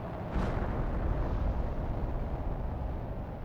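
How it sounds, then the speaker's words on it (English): Rockets launch in the survival game Planet Crafter, a loud continuous low roar and rumble that swells at ignition and holds steady throughout, with no talk. "Then we are back sending off more rockets."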